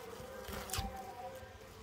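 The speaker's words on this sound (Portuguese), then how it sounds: "Olha o tanto de abelha que tem," Dense, steady buzzing of many bees at a weak beehive box, close and continuous, with a brief knock partway through.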